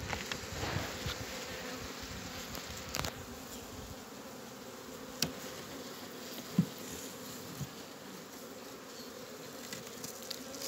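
Young honeybees take their first flight around hive boxes, a soft, continuous outdoor buzz with occasional bees passing close and faint knocks.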